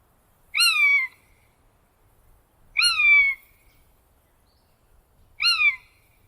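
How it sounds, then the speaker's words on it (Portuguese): A Hawaiian hawk on the Big Island of Hawaii calls three times, each a clear, high, sharply descending cry with harmonics, spaced a few seconds apart against near silence. "O falcão havaiano é encontrado exclusivamente na Ilha Grande do Havaí."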